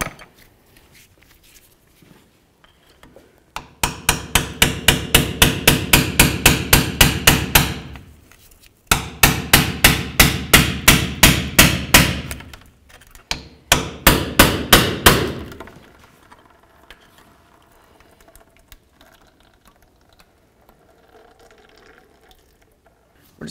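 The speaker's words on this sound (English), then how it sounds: "Next thing we're gonna do is break this pan free. Of course, fluid's gonna come out." Rapid hammer blows knock a differential pan loose on a 1992–99 GMC K1500 in two loud metallic bursts of steady strikes, followed by a quieter stretch of fluid trickling out.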